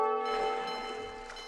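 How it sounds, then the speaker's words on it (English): A doorbell chimes at home during gaming, a sustained ringing bell tone with stacked harmonics that rings out and slowly decays over a second and a half, fairly faint and with no voices over it. "Okay, someone just rang my doorbell."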